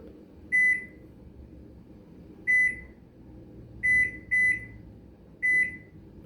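A microwave-style oven control panel beeps as a 30-minute timer is set and started for cooking BBQ ribs: five short, clear electronic beeps, the last four spaced closely, over a low background hum.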